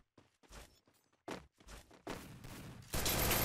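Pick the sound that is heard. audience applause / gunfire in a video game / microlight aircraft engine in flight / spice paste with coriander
gunfire in a video game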